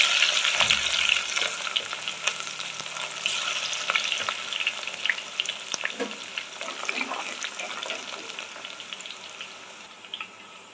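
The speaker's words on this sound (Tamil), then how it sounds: "வெந்தயம் நல்லா பொறிஞ்சு வருது பாருங்க" Fenugreek seeds and crushed garlic spluttering in hot oil for a Tamil fish curry: dense crackling sizzle with sharp pops and a few stirring knocks, close and bright, fading slightly toward the end.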